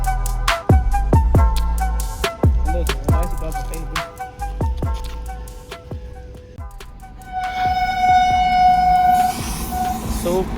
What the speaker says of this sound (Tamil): சூப்பரான ட்ரெயின்.